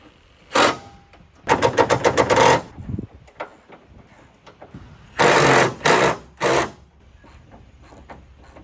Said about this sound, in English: Just drive it in there slowly so you don't strip any bolts.